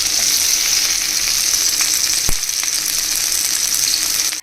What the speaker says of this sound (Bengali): তেলের মধ্যে দিলাম অল্প একটু জিরা এবং পেঁয়াজ কুচি ও লঙ্কা কুচি